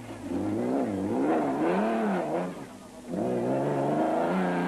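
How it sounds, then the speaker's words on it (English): An SP rally car drones past during the 2008 Sun City 400 rally, its engine pitch rising and falling through several gear changes, loud and close, dipping briefly before the drone returns. "While the SP of Ferguson and West droned past next"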